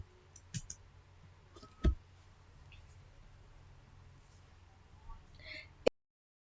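A computer mouse gives a few sparse, sharp clicks at close range, separated by quiet gaps, with one crisp click just before the sound cuts off.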